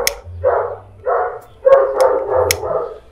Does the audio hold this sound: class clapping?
no